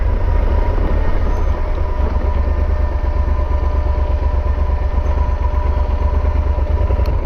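A Yamaha Super Tenere motorcycle on an off-road trail produces a steady, loud engine drone with a deep low rumble throughout, continuous with no pauses.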